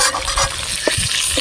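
Stuffed pointed gourd filled with prawns frying in a wok, a steady bright sizzle with a few soft stirring knocks and scrapes near the pan, and no talk.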